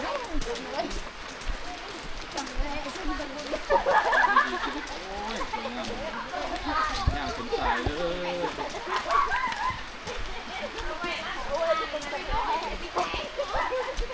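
Chickens cluck and a rooster crows in a rural village in Salavan province, southern Laos, with people talking throughout over the birds.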